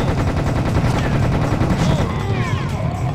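Sustained automatic gunfire from the video game Serious Sam Second Encounter pounds on without a break, loud and near, with some brief whistling, sweeping effects layered in toward the end.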